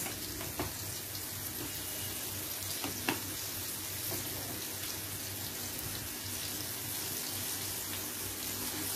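Fish frying in a pan over a high gas flame, a steady close hiss of bubbling oil with faint crackles and occasional soft clicks, continuous throughout with no voices.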